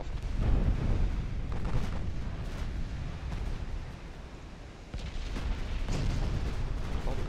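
Naval ship guns boom repeatedly in an Ultimate Admiral Dreadnoughts sea battle, loud deep salvos rolling one after another with rumbling tails and a brief quieter lull midway.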